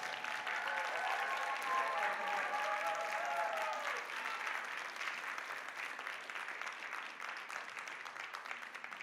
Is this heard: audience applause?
yes